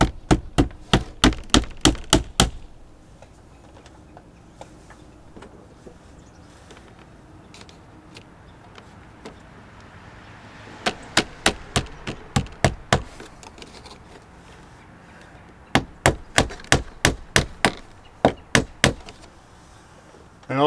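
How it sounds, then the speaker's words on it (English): Small white nails hammered into soffit on a house addition build: three bursts of rapid, sharp hammer strikes, a handful of blows each, separated by quieter pauses with faint handling noise. "I'm going to put a couple of those little white nails just to hold it in place"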